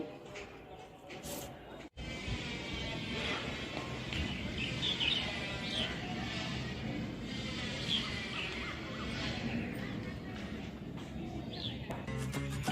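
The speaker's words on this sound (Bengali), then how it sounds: "আর পাখিগুলো এত সুন্দর ডাকছে যে যার ঘরে ফিরছে" At dusk, birds returning home fill the air above a rooftop with dense, continuous chirping and calling at moderate distance, with a voice occasionally talking underneath.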